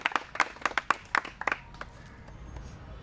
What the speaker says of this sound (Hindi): थोड़ा ताली बजाइए सब लोग